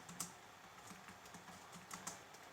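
Code is typed on a computer keyboard in a quiet, steady patter of soft key clicks with a few louder taps, close by, without talking.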